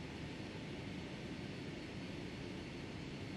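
Steady, dense roar of Boeing 757 jet engines in Flight Simulator X as the airliner taxis toward the runway, a constant broad drone at even loudness with no voices.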